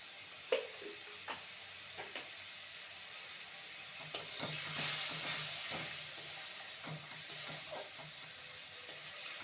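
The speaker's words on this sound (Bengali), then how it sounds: "মশলাটাকে ভালো মতন কষিয়ে নিতে হবে" Spice paste sautéing in a pan for a bitter gourd dish, a steady soft sizzle with occasional light taps and scrapes of a spoon, fairly quiet and without speech.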